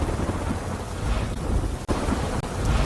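Heavy monsoon rain with thunder in Rajkot, Gujarat: a dense, loud, continuous roar of downpour with deep rumbling underneath and no voices.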